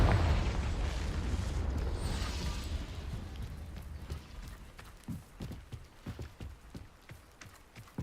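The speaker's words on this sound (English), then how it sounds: "Confringo." A Confringo blasting spell explodes in the video game Hogwarts Legacy: a loud, broad blast opens and fades into a low rumble, followed by scattered sharp clicks and knocks.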